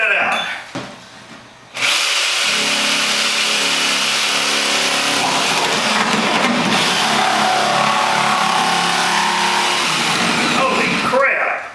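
A jigsaw cuts wood for a garden box, running continuously for about ten seconds after a brief start, loud and close with a harsh buzzing whine. Short exclamations come before the cut.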